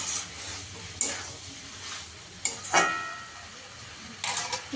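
Shrimp fries in a pan with a little oil and spices, giving a soft steady sizzle broken by several louder hissing bursts and scraping as it is stirred.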